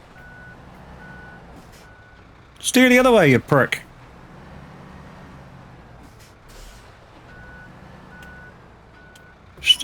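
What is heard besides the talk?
truck reversing beeps in a truck driving video game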